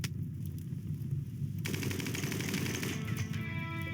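Turrets open fire on shielded raiders in RimWorld, a rapid, dense rattle of automatic gunfire that suddenly grows louder and brighter partway through and continues steadily without talk.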